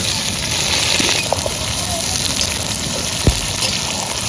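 Chopped onion sizzling in hot white oil in a heated kadai, a steady dense hiss throughout with one brief louder pop near the end.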